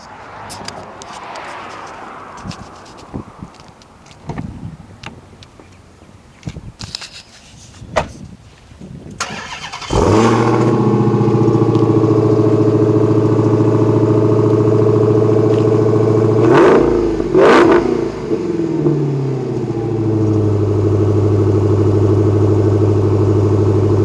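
A 2018 Dodge Challenger SRT Demon's big engine cranks a few times, roars to life, and settles into a loud, rumbling idle, punctuated by two sharp revs before easing back down.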